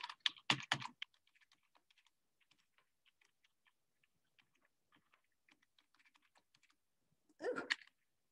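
Keys clatter on a computer keyboard, a quick loud burst at the start, then sparse faint taps scattered across the middle, and another louder flurry near the end, all close and with no speech.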